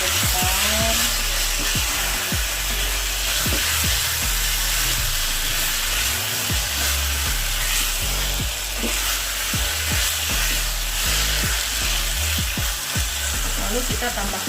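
Beef stirred into rawon spice paste frying in a pan, a loud continuous sizzle up close with scraping and clattering stir strokes throughout.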